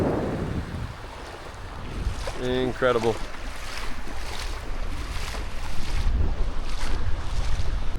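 Strong wind blowing across a beach sandbar at Punta Mosquito on Holbox, a loud constant roar and rumble of wind noise on the microphone, with a brief spoken word in the middle.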